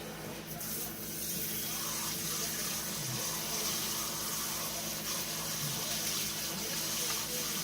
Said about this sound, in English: I make sure the water is piping hot from the tap